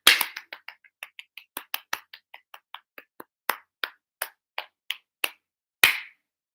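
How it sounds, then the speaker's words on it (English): A group of young children clapping along during a live-streamed class lesson, a series of about twenty sharp, uneven claps and slaps coming one after another, ending with a louder final clap. "Give yourselves a big round of applause"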